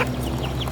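A large breeder chicken clucks briefly, a short low burst of fowl sounds close by.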